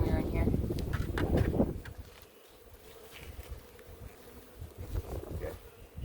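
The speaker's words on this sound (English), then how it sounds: "I'm seeing a good amount of bees in here." Honey bees hum in an opened backyard hive while frames are handled, a low continuous buzz with a louder rustling burst at the start, then a steady drone.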